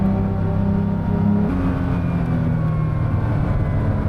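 A 1981 Porsche 911 SC engine under load through corners, a steady droning roar that shifts pitch partway through as revs change, continuous and fairly loud without any voices.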